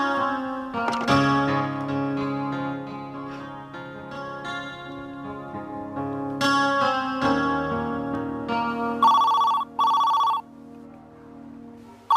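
An electronic phone ringtone plays a bright, warbling melody for several seconds, ending in a rapid buzzing trill, with no voices.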